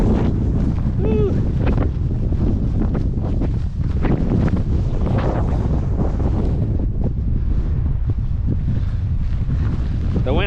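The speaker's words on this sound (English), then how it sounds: "It's still really windy" Strong wind buffets the microphone in a loud, continuous roar at the top of an Icelandic waterfall, with brief bits of voice and movement heard under the gusts.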